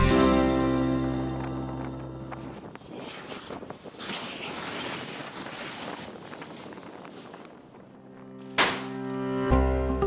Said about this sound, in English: We will accelerate it up to 65 kph and then we will do a closing turn to the right until the vehicle flips over.